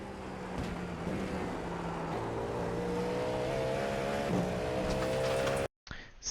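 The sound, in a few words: race car driving at full speed in iRacing GTP video game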